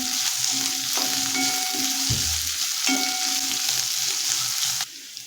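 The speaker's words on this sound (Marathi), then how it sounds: "मीडियम गॅसवरती कांदा ब्राऊन होईपर्यंत परतून घ्यायचा आहे" Vertically sliced onion frying on medium gas until browned for a vegetable pulao, a steady close sizzle with occasional stirring clinks and scrapes, the hiss dropping away sharply at the end.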